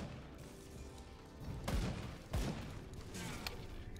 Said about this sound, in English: Great time to stand back and throw grenades.